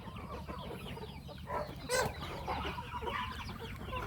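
Burmese chickens let out to range on grass clucking softly at a distance, several overlapping calls with a brief louder squawk partway through, fairly quiet.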